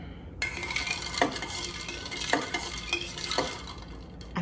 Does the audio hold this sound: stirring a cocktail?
yes